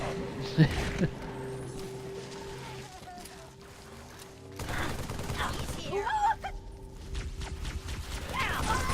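Gunfire from the Halo 3 video game crackles in bursts and scattered shots amid game effects and rumble, with a player's voice speaking over parts of it.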